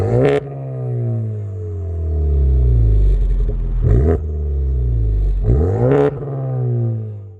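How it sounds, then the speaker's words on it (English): A modified Honda Civic Type R FK8 with a 3-inch HKS exhaust and downpipe revs hard three times, each rise ending in a sharp pop as the throttle drops, with a deep exhaust drone between. "The car features a 3-inch HKS exhaust with Dream Downpipe, which I think sounds great."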